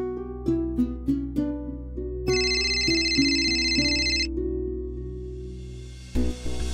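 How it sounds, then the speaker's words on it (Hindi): An electronic phone ringtone plays a repeating melodic pattern of tones, loud and close, with a low steady hum underneath, cut off near the end. "अमार को फोन करती हूँ।"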